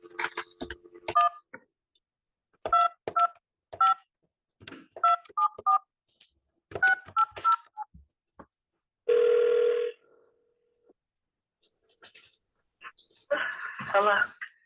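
Telephone keypad dialing tones, several quick bursts of paired beeps punched in short groups, followed by a longer steady tone, with people talking before and after.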